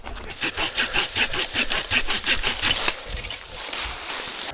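Small hand saw cutting branches off a fallen tree outdoors, with steady rhythmic rasping strokes of even pace, close and fairly loud, the scraping continuing for several seconds without talk.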